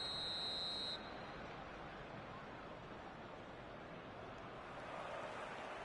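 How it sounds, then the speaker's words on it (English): A referee's whistle at a football match gives one shrill blast of about a second, heard over a constant wash of crowd or wind noise. "Whistle goes, and we start the second half."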